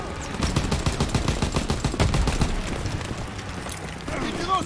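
Sustained gunfire in the World War II shooter Call of Duty WWII, a loud rattle of rapid machine-gun shots over the first few seconds that thins out toward the end, with shouted voices in the mix.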